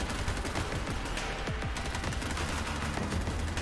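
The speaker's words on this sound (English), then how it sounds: "No, that's Seth with the light machine gun." Light machine gun fire in the video game Borderlands 3, a dense continuous rattle of rapid shots amid other game effects.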